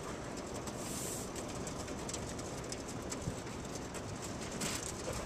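Steady broadband rushing noise as racing pigeons are released at a training toss, with scattered faint bird sounds and soft cooing, busy and continuous, no clear distinct wingbeats standing out.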